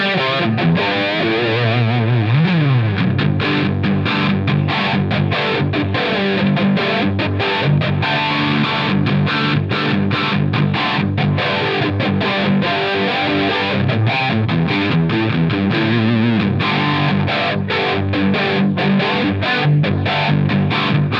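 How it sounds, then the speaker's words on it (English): A distorted electric guitar through a Line 6 Helix plays with a sweeping, jet-like flanger placed before the distortion, whooshing through it, loud and continuous throughout. "I decide to put the flanger before the distortion."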